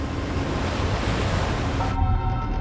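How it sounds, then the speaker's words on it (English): Rough, choppy ocean waves in a shallow strait make a dense, continuous roar of surf and spray with wind buffeting, loud and unbroken throughout. "the shallow ocean makes the choppy waters even more turbulent"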